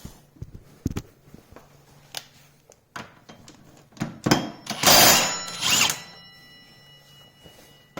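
A 15/16 socket works the wheel hub nut on a Honda 400EX ATV, with scattered metallic clicks and taps, then a few short bursts of a power tool whirring close by before it quiets.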